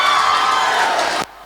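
An audience at a stage show cheers and claps loudly for a student dance team, a dense roar of whoops and applause that cuts off abruptly after just over a second.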